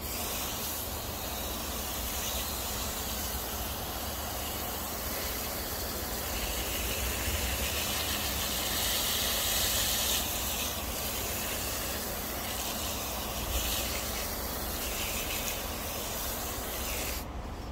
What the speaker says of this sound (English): I'm not using a pressure washer, I'm just using a regular garden hose this time.